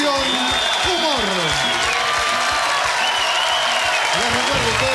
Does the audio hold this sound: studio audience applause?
yes